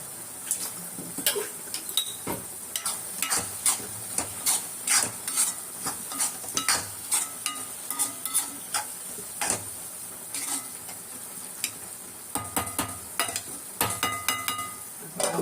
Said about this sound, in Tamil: நம்ம மஞ்சாத்தூள் போட்டு கழுவி வச்ச இறாவை அதில் போட்டுடலாம்